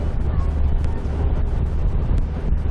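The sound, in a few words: wind blowing over the Danube, wind noise on microphone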